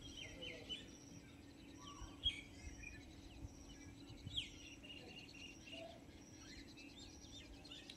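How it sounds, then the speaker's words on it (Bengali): Quiet outdoor ambience with small birds chirping and tweeting intermittently over a faint steady insect drone, with a couple of slightly louder calls. "ঝিঝি পোকার আওয়াজ, ছোট ছোট পাখির আওয়াজ সব পাওয়া যাচ্ছে।"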